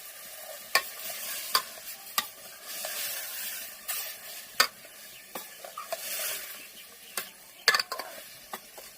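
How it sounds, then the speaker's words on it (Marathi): Mutton masala sautéing in oil over a wood-fired clay stove, a steady sizzling hiss broken by sharp scraping spoon clicks at irregular intervals, close by. "तेलामध्ये ती परतून घेते"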